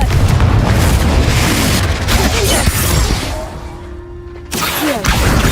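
A Confringo fire spell bursts in Hogwarts Legacy with loud, booming explosive blasts and crackling debris, followed by a brief lull with a low tone before the rumble returns.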